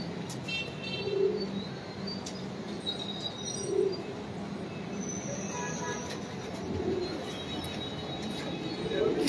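Low, soft pigeon coos repeat every couple of seconds over a steady rumble of background noise in Samanabad, with faint chirps and distant voices.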